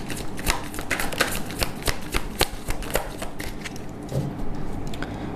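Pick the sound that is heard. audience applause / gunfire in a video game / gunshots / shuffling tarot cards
shuffling tarot cards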